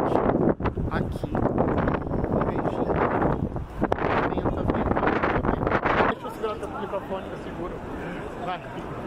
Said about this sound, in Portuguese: vocês não têm noção, mas tá um vento aqui